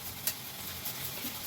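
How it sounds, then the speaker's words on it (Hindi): Water in a pot just starting to boil for ginger lemon tea, a steady soft hiss with faint bubbling throughout, heard alone without talk. "जो पानी जैसे उबलने पे लगा है, उबलना शुरू हुआ है"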